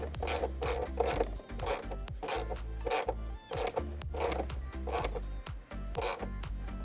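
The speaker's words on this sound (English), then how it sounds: "now we'll go ahead and tighten the negative terminal" A ratchet tightens the negative terminal on an Ohmmu 12V battery in a BMW i4, giving close, rhythmic bursts of rasping clicks with short pauses between strokes.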